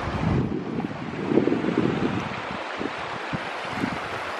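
A river flows past its bank in the Uinta outdoors as a steady, broad rushing wash, heavily buffeted by low wind gusts against the microphone throughout.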